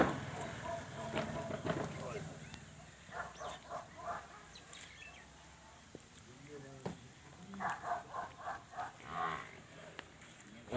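Buffaloes and cows at a livestock sale in Punjab low and moo repeatedly, in several moderate-distance calls spread across the scene, while people talk nearby and birds chirp faintly.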